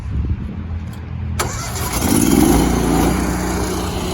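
A Mud Dog trailer pressure washer's nozzle bursts into a loud, steady spray with its chemical injector engaged, the hiss starting suddenly about a third of the way in over a constant engine drone.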